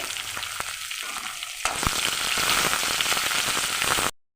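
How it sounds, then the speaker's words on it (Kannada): Chopped onions and green chillies hit hot oil in a pan with a sharp crackle, then settle into a loud, steady sizzle that holds for several seconds before cutting off abruptly. "ಈಗ ಕಟ್ ಮಾಡಿಕೊಂಡಿರುವ ಈರುಳ್ಳಿಯನ್ನು ಸಹ ಹಾಕೊಳ್ಳೋಣ ಈರುಳ್ಳಿ ಸ್ವಲ್ಪ ಫ್ರೈ ಆಗಲಿ"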